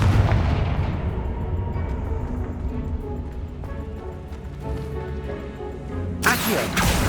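Confringo blasting spell explosions in the Hogwarts Legacy video game: loud, continuous booming rumble with rolling blasts and a sharp bright burst near the end.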